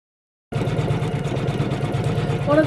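An embroidery machine stitches a neoprene mouse mat, giving a fast, steady mechanical whirring hum that begins abruptly after a short silence and runs on continuously up close.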